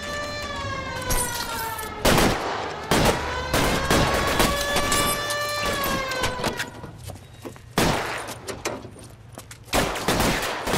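Scattered gunshots ring out in L.A. Noire, loud separate cracks at irregular intervals, mixed with a sustained tonal hum from the game's sound and music.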